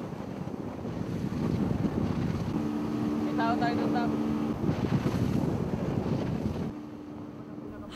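Wind and rough sea waves buffet a small boat patrolling open water, a steady broadband roar with a low engine-like drone running throughout and faint tonal sounds partway through, the rushing noise easing near the end.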